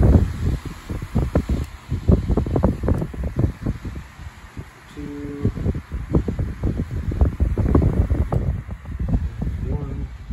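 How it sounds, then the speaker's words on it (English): A Menards 9-inch floor fan runs close by, its steady airflow whooshing and buffeting in uneven gusts, with a brief pause partway through. "Decent air movement for a 9-inch fan."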